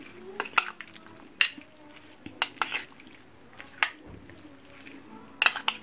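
Utensils clink and scrape against a bowl in sharp, irregular knocks as seasoning is stirred into a grilled chicken wing mixture with salt, close and quiet, with no talking.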